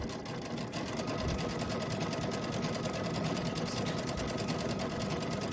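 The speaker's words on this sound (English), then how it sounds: "That'll make the edge stitching uneven." A sewing machine runs steadily while stitching an overcast edge along a fabric napkin, a close, continuous rapid whirring chatter that holds at an even pace throughout with no talking.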